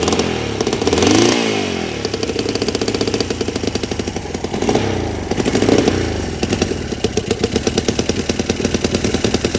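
Honda CL175 motorcycle engine running after its first start, close and loud, with a rapid popping idle that swells in a couple of revs before settling back into a steady rhythmic putter.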